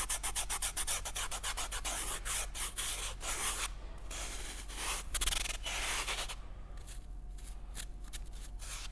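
Hand sanding along the edges of a climbing hold, a steady run of quick rasping rubbing strokes, close and fairly loud, that briefly pauses before resuming in a slower, softer rhythm.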